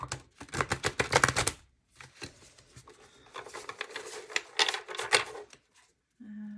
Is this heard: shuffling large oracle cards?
yes